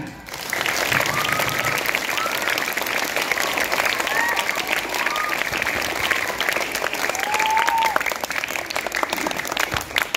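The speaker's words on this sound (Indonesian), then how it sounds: "Tepuk tangan." Primary school students at MI Al-Hikmah applaud during an anti-bullying session, a lively, continuous patter of many small hands clapping throughout, with scattered children's voices and calls rising over it.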